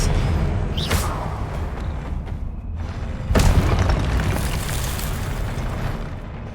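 Spells cast in the video game Hogwarts Legacy go off with booming explosive blasts, two heavy bursts over a dense, loud rumble of magical combat.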